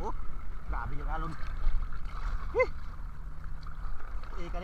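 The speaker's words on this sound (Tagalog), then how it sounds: "Oh, grabe yung alon." Big sea waves slap and churn against a small fishing boat at sea, a rough gurgling wash of water with a low rumble beneath, while voices call out over it.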